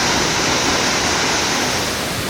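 The 15-metre Bagaturgen waterfall in western Mongolia, fed by snowmelt, roars as a steady, dense rush of falling water, loud and continuous with no voices.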